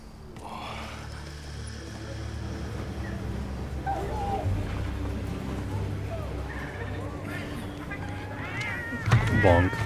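Cats meow in a Monster Hunter Wilds cutscene, several short mews scattered over game music and ambience, with a louder cry near the end, while a person talks over the scene.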